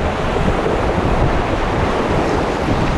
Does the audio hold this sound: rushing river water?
yes